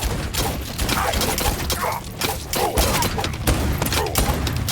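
Dense, loud automatic gunfire with crashing impacts fills the ork shooter game Warhammer 40,000: Shootas, Blood & Teef in continuous bursts, with voices talking over it.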